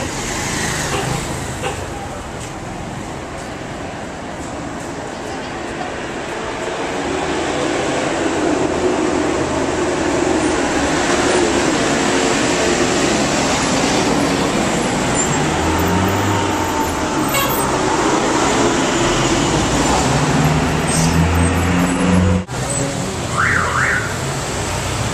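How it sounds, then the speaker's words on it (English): Busy city street traffic with cars and small buses passing, a steady loud roar of engines and tyres that swells and stays dense throughout, with no clear voices. "Traffic here is kind of like New York."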